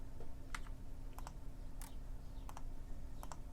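A few separate key presses on a computer keyboard, sharp and quiet, spaced irregularly over a steady low room hum.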